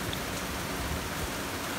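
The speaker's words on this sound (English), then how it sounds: "The sound of rain needs no translation" Steady rain falls without a break, a dense, even hiss of drops close by that holds at the same level throughout, with no voices over it.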